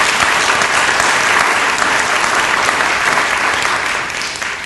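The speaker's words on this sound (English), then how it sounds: "So, if you could give them a round of applause." A council meeting audience claps steadily in a sustained, loud round of applause that tapers slightly near the end.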